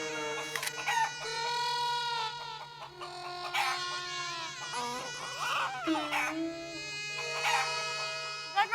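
A man imitates a rooster crowing with his voice in a comedy mimicry challenge, giving several drawn-out, wavering crow-like calls with other voices chattering around him.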